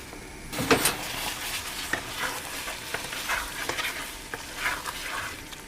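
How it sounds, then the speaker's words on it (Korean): Tteokbokki rice cakes being tossed in a frying pan with green spinach pesto sauce: a close, continuous sizzle with repeated scraping and stirring strokes of a utensil against the pan. "소스와 떡볶이 떡을 잘 버무려 주시면 됩니다."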